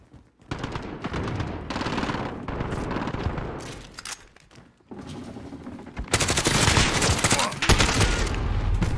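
Sustained automatic weapon fire in Call of Duty Modern Warfare, dense rattling bursts that pause briefly midway and then resume louder and heavier, with faint voices underneath.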